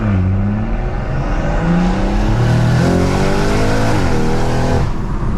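A loud, close big-turbo BMW M140i engine revving hard and climbing through the gears at night, its high-pitched whine rising steadily with no talking.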